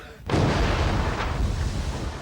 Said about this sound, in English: By that stage, the fire's already reaching the petrol can. There's enough air inside the house for it to explode.